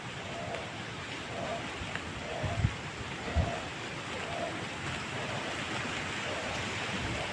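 Rain falls steadily over a vegetable garden of brinjal and ridge gourd plants, a soft continuous wash of drops with a couple of brief low thumps near the middle.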